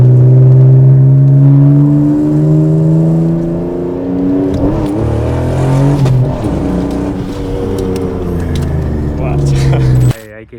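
Mitsubishi GTO engine revving loudly and steadily close by for about ten seconds, a sustained rising and falling drone that cuts off abruptly at the end.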